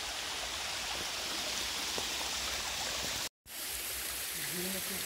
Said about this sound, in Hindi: यहाँ झरने का फ्लो कर रहा है।